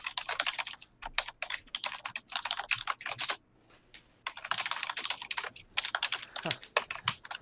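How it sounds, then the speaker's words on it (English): Rapid typing on a computer keyboard, steady bursts of key clicks with one short pause, close and clear. "I'm just typing it down so I don't forget in the moment."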